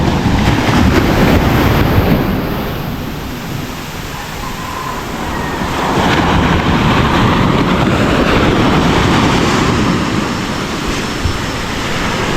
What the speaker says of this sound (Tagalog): Grabe, kalakas talaga ng alon, oh.